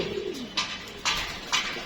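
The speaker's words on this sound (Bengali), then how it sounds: "এখানে কবুতর নামছে" Racing pigeons coo softly in a low, murmuring tone while several short bursts of flapping wings come and go as they land after a race.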